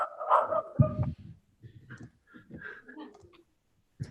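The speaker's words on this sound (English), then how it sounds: "That's Chester, our dog." A pet dog barks in a few short bursts near the start, with people talking over and around it and a final bark cutting in at the end.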